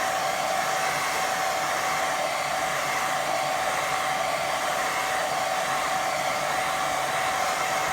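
A hair dryer blows steadily on a watercolour painting of distant sheep, giving a close, constant whooshing drone with a faint high whine that runs unbroken throughout, with no voices.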